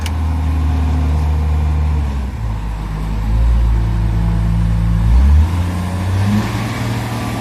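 A CAT 966H wheel loader's engine runs loud and close with a steady, deep drone. The pitch dips and swells as the machine is put in gear and moves off, continuous throughout with no talking.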